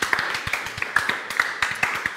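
Scattered clapping from a small audience at a French game show, a few hands tapping in an uneven, sparse rhythm for a couple of seconds.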